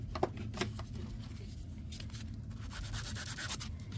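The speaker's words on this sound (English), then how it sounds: "I just took a little bit of a sanding block." Steady scratchy rubbing of a sanding block on metallic paper, continuous strokes at close range for several seconds.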